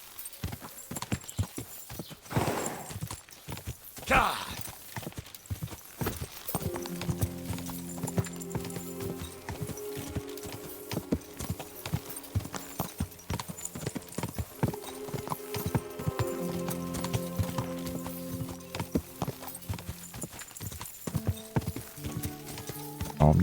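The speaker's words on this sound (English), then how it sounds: "What a beautiful horse." Horse hooves clip-clop at a steady walking pace in Kingdom Come Deliverance 2, with a brief whinny early and game music underneath.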